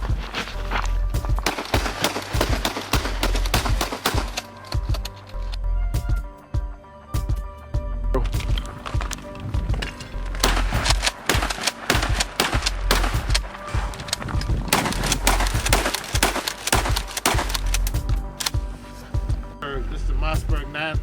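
Rapid, loud gunshot-like blasts and sharp cracks, associated with a Mossberg 930 SPX Blackwater Edition shotgun, come in dense bursts across the whole stretch, under and between frequent talking voices.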